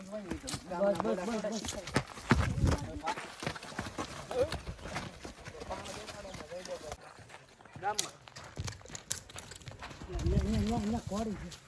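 Rhythmic clip-clop of a horse's hooves as a rider sits mounted, steady and fairly close, with people talking over it throughout.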